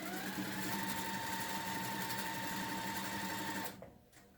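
A sewing machine stitches quilt block pieces with a quarter-inch seam, a close, rapid continuous whirring run that stops abruptly near the end, leaving a few faint clicks.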